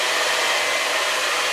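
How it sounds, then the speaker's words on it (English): A hair dryer blows in a steady, close, full airflow rush with no pauses and no talking. "I usually take the hair dryer and just dab it a little bit"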